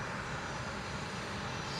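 Bombardier jet at Long Beach Airport, heard as a steady, loud broadband engine roar filling the whole moment with no break or voices.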